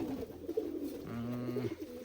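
Large domestic pigeons in a Semey loft coo up close, with a few low, throaty rolling calls in a row and no speech.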